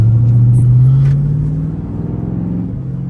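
Ford Mustang GT engine rumbling steadily while driving, a loud low-pitched drone that rises slightly early on, then settles into an even, continuous rumble.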